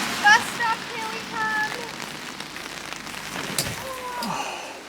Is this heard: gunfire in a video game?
no